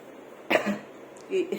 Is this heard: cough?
yes